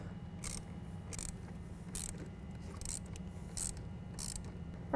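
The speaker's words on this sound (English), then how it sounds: "we're gonna use a 10 millimeter to loosen up the positive battery terminal" A 10 millimeter ratchet wrench loosens the positive battery terminal on a Chevrolet Colorado. Six quick bursts of ratcheting clicks come at an even pace, close and crisp, over a low steady hum.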